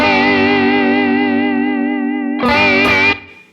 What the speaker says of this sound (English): That's a vibrato for sure.